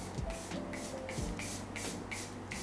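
Rare Beauty setting spray misted onto a face in quick repeated pumps, a rhythmic series of about seven short, close, airy sprays with soft handling noise between them.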